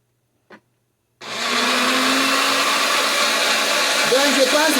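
A kitchen machine blends zucchini, starting after a brief tap and then running as a loud, steady, close whirring drone, with a faint voice briefly over it near the end.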